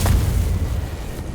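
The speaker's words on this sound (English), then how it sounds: "Captain calls in the mortar barrage here in the MD-42." A mortar barrage in the game Company of Heroes 3 gives a deep rumbling boom with a sharp initial thump, then a sustained low roar that slowly fades.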